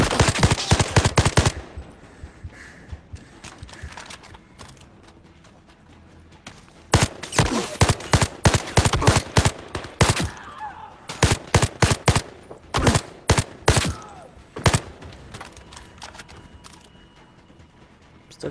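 An M2 Browning heavy machine gun in the video game Zero Caliber Reloaded, firing in loud rapid bursts of rattling shots separated by short pauses, close and without talking.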